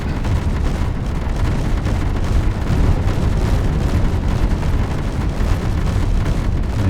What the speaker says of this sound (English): The interior turret's doing a good job there of getting rid of the incoming missiles